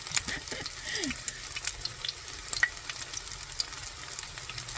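Homemade low-carb chicken nuggets frying in a pan give a steady, soft crackling sizzle with scattered pops, moderately quiet and continuous.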